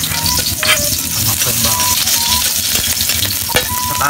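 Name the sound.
onion sizzling as it fries in a pan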